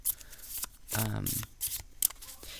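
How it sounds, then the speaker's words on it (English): Blackbird Lenormand card deck being shuffled by hand, a riffle of stiff cards giving a short flurry of crisp slaps and flutters, close by, with a voice speaking briefly over it. "I think you can riffle shuffle it."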